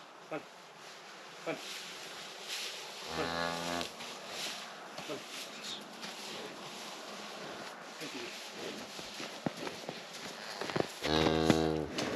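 A cow and her calf on a farm during calving season give two loud, drawn-out moos several seconds apart, heard over a constant buzz of flies and faint outdoor background sound.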